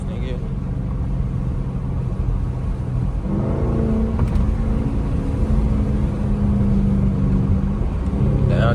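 Chrysler 300 engine rumbling and revving inside a city tunnel at night, a loud enclosed drone that rises in pitch partway through, with someone talking over it.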